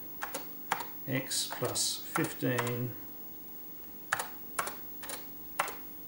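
Keys on a Pioneer PX-7 MSX computer are tapped in short bursts of crisp clicks, while someone speaks over the first half before the typing continues alone.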